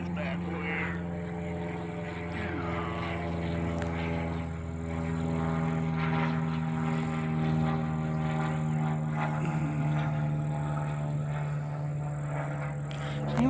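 An airplane flies overhead near a state park, a steady droning engine hum that holds and slowly swells, with someone talking over it outdoors.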